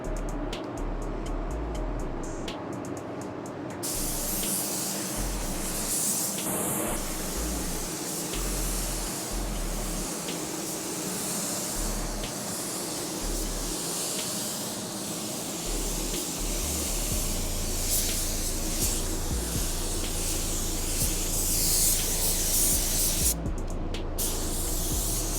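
A spray gun lays coarse metallic paint onto a car body, giving a steady, close airy hiss that runs continuously with slight swells and brief breaks in the spray.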